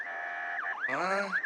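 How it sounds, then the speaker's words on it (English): Electronic sirens wail in a cyberpunk noir audio drama, one steady tone then overlapping rising and falling sweeps, fairly faint and close together, with no talking. "those sirens are getting closer"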